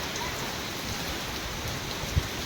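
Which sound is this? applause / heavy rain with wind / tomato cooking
heavy rain with wind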